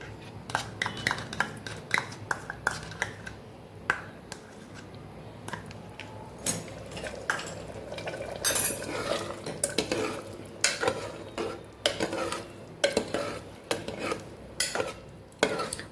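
A spoon stirs whisked curd into a brinjal curry gravy in a pot, a quiet steady simmer with repeated clinks and scrapes against the metal.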